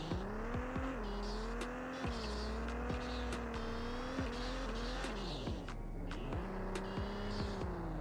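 A tuned Porsche sports car accelerates through a curve, its engine note rising and shifting through gears in a steady, moderately loud whine with faint tire noise, heard alone without talk.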